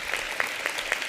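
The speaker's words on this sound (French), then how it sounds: "je vous demande de l'applaudir" Audience applause at a public reading event, a dense steady patter of clapping hands filling the short moment without speech.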